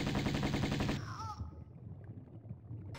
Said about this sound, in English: Shoot your doppelganger and they will shoot back and you will die.